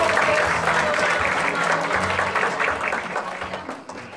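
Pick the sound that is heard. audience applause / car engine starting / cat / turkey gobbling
audience applause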